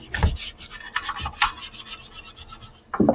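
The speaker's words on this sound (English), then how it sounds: "the steel brush, just to see how it does on here. This thing's got like a lot of oxidation. It's scuffing a little bit." A steel wire brush scrubs heavy oxidation off a metal valve cover during a gasket replacement, giving close, rough rasping strokes in an uneven rhythm, with a brief sharper scrape near the end.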